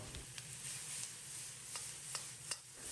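Squid stir-fried over high heat in a wok with a splash of cooking wine and dark soy sauce, a steady low sizzle broken by a few sharp spatula scrapes and clicks, quiet and close with no talking.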